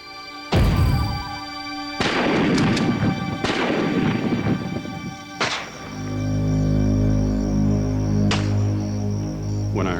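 Gunshots ring out at night: about five loud, sharp bangs spaced a second or two apart, each trailing into a long ringing decay over a steady low hum.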